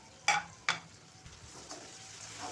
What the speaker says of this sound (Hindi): टमाटरों के नरम होने तक आहिस्ता से चम्मच चलाती रहें